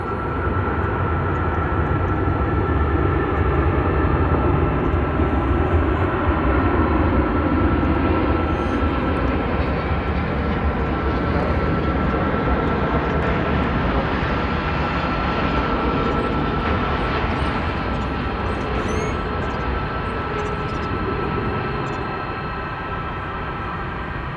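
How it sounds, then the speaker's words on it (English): A Japan Airlines jet from Tokyo lands at DFW Airport, its engine roar loud and steady for the whole stretch with a broad, rumbling wash and a faint whine riding on top, no voices. "here comes the Japan Airlines flight from Tokyo."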